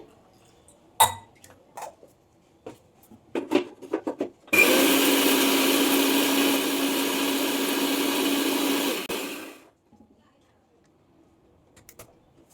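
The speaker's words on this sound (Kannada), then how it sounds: "ನೀರು ಹಾಕೊಂಡು ಮಿಕ್ಸಿ ಮಾಡ್ಕೊಳ್ಳಿ" A mixer grinder blends tomato masala with water in one loud, sustained whirring burst of about five seconds, with kitchen clinks and taps before and after.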